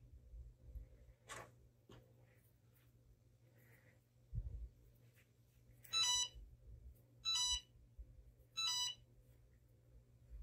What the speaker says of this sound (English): My iron is beeping at me.